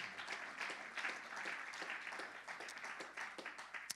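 Congregation in a church clapping and applauding together, a steady dense patter of many hands at moderate distance, sustained evenly throughout with no talk over it.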